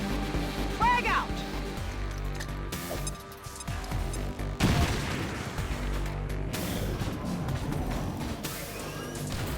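In XCOM 2, a thrown frag grenade bursts amid scattered gunfire, giving a dense, rumbling stretch of booms and sharp cracks, with voices talking over the battle noise.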